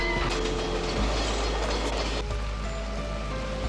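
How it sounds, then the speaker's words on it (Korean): A train rumbles past nearby in a film scene, a loud continuous rolling roar with metallic clatter and hiss throughout. "그들을 만나게 했던 기차마저 몰리를 멈추게 합니다."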